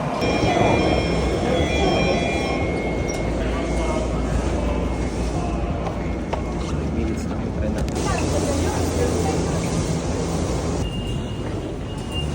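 A train at a station in Japan, near Akihabara, makes a steady, loud rumble and wheel noise with faint squeals. Voices of travelers talk over it throughout.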